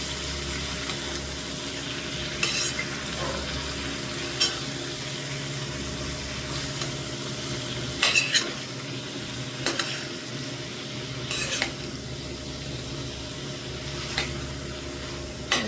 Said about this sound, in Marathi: भाज्या म्हणजे तर पूर्ण फिरून घ्यायची आता